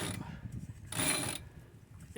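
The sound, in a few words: sailboat winch being turned, stiff and unserviced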